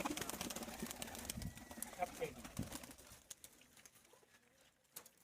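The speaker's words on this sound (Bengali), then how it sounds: "এখানে কি সব দেশীয় পায়রা আছে কিছু, না?" Native pigeons coo and call among a collection of pigeons, a busy mix of bird sounds that is louder and denser at first and thins to a quieter backdrop, with some voices nearby.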